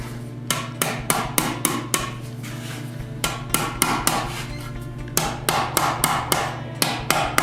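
Metal armor edge hammered over a chisel stake, loud ringing blows in rapid bursts with short pauses between runs, close and alone without talk.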